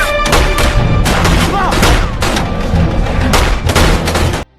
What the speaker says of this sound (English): engaging in a shootout as they depart